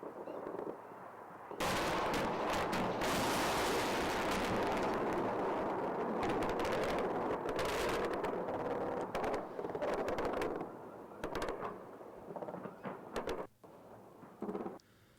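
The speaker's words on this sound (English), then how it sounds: "On either side, here's some explosions." Heavy explosions and rolling blasts of Iraq War fire, a dense continuous barrage of booms and crackling that trails off into scattered bangs.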